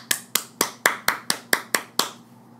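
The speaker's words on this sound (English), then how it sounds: "let's give him another round of applause so he can make a curtain call." Clapping marks the end of a history presentation: eight crisp, evenly spaced handclaps, close and fairly loud, each fading quickly, with no voices over them.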